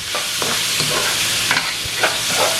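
About 250 grams of tomatoes being stirred in a hot frying pan, with a soft sizzle under a few distinct spoon scrapes and swishes, near and clear, no voices.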